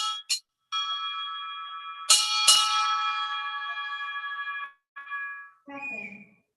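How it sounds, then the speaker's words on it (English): A ship's bell is rung four times at a U.S. Navy retirement ceremony, struck in two pairs of bright metallic strikes that ring out and decay, followed by the rising tone of a boatswain's pipe. "Sound 4 bells."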